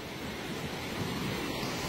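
Steady broadband rush of river water flowing near a village school and bridge, a continuous close wash with no talk.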